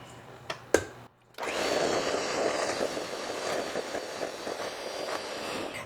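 An electric mixer beats softened butter in a bowl, starting after a couple of short knocks and running as a steady, close whirring drone for several seconds with no talk.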